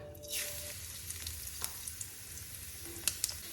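Black cumin seeds fry in mustard oil for a chutney, a steady close sizzle with scattered small pops and crackles running throughout, with no talking over it.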